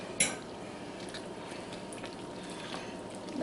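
A spoon stirs shredded chicken into a pot of broth for PA Dutch chicken and waffles, with a clink at the start and a soft, steady wet churning and scraping close by.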